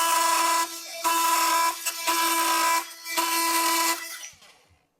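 A DeWalt oscillating multi-tool blade cuts through ring shank nails in construction framing. It gives a high, buzzing mechanical whine in several short bursts separated by brief pauses, then winds down and stops.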